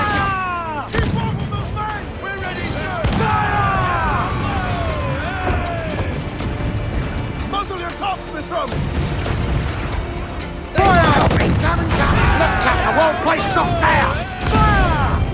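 Heavy ship cannons boom again and again during a naval battle in Assassin's Creed 4 Black Flag, loud blasts with crashing impacts under shouted crew voices and a sweeping orchestral score.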